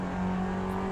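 Steady, high-revving engine held near the redline on a manual car in Assetto Corsa at the Nurburgring, a brief sustained buzzing drone with no talk.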